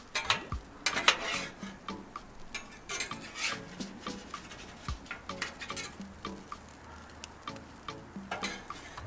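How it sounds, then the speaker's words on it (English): Tater tots are tossed with a metal spatula on a Blackstone griddle, giving rapid irregular scrapes, clacks and taps against the flat steel, close and unaccompanied by talk. "we'll just keep tossing these totchos"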